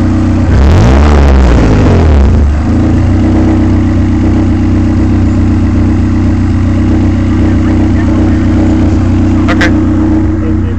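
A Honda CRX engine is revved a few times, then holds a loud, steady idle that drones on close by without letting up.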